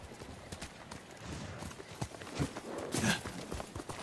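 Hoofbeats of the horse Kage from the video game Ghost of Tsushima, a quick rhythmic clip-clop of galloping hooves on ground, moderately close with a few louder strikes and a faint snort.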